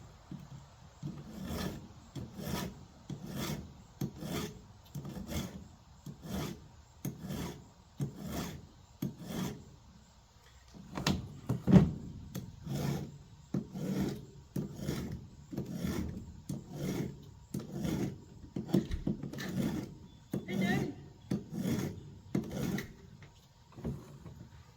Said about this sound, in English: Sharpening the chainsaws?